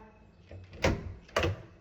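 A door handle is rattled and the door pushed twice, producing two sharp knocking jolts against a locked door, fairly close amid quiet room noise.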